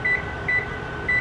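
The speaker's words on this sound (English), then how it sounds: "I'll cut my timer on" A kitchen timer on a stove beeps three times in even, steady pulses, each a clear electronic tone over a low background hum.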